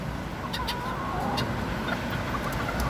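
Bantam chickens cluck and chatter in a yard, soft clucks and a few brief calls rising over a constant, loud background rumble.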